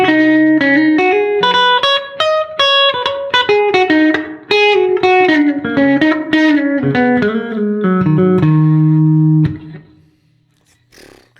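An electric guitar on its middle pickup plays a melodic lead line, notes moving steadily downward, ending on a long sustained note that fades out.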